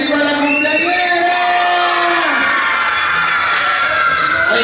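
Children and a crowd shout and cheer loudly at a first birthday party in a community setting, sustained overlapping cries and whoops with voices mixed in.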